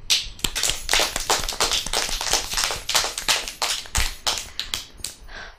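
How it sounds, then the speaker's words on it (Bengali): Steady applause from a TV show audience after a dance, many hands clapping in a dense, crackling patter that rises and falls for several seconds with no talking. "জোরে হাততালি দেওয়া হোক"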